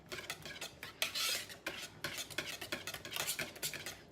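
Chipotle lime dressing being whisked in a bowl, a fast run of bright metallic scrapes and clicks with uneven bursts, close and continuous, no voices.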